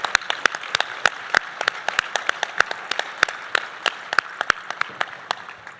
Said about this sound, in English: Let's give another round of applause to Mary Kay Messenger and the Greenwich Police Department Honor Guard